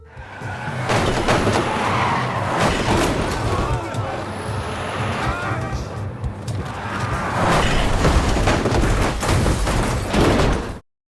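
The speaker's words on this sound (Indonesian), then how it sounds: "tiba-tiba ada sebuah truk yang sengaja menabrak mobil para polisi dan bus yang membawa para tahanan tersebut" A truck deliberately rams police cars and a bus carrying prisoners in a film scene: loud, sustained crashing and skidding with tyre squeals and metallic impacts, swelling again toward the end before cutting off abruptly, with voices mixed in.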